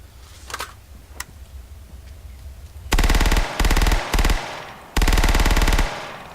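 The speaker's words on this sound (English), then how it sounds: "with a good SMG, you have a good rate of fire with this weapon. Very high rate of fire." An SMG fires at a very high rate in Arma 3, with the OPTRE mod. Three faint shots come first, then four loud, sustained automatic bursts with brief pauses between them.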